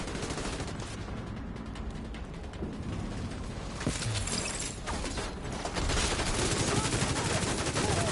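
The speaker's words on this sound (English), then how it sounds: "So for this machine gun, I might switch to this special ammo." A machine gun in The Division 2 fires rapid clattering bursts amid mechanical rattles and gunfire from a firefight, the shooting growing denser and louder toward the end.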